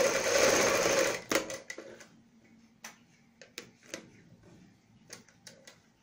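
A sewing machine double-stitches the outer seam of a kurti sleeve, starting with a loud, fast whirring run that stops abruptly, followed by scattered light mechanical clicks and ticks.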